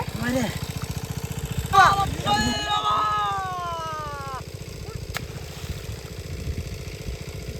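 A diesel engine drives an irrigation water pump in a tomato field, chugging in a steady, fairly loud rhythm throughout while people talk over it and a rising whine passes briefly.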